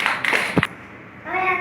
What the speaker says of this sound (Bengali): হাততালি দাও সবাই, সবাই হাততালি দাও।